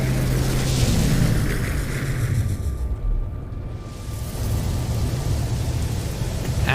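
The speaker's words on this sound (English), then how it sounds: "Acid rain, awesome." A steady roar of heavy acid rain pours over an alien planet in No Man's Sky, broad and continuous with a brief dip midway, and no voices.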